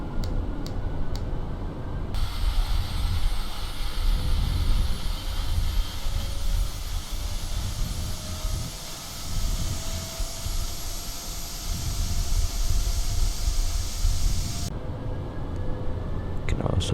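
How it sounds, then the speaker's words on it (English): Auxiliary power unit of a Boeing 787 spinning up in a flight simulator, a steady loud whine and rumble that rises in after a quieter cockpit hum and holds for most of the stretch before dropping back. "I'm gonna go ahead and get the APU started"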